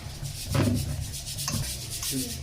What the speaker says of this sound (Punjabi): ਇਦਾਂ ਕਰਕੇ ਆਪਾਂ ਛਾਣ ਕੇ ਲੈ ਲਾਂਗੇ ਇਹਨੂੰ